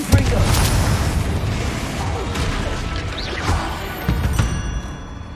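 Confringo fire-blast spells in Hogwarts Legacy set off repeated crashing booms and smashing impacts, dense and loud amid continuous combat clatter.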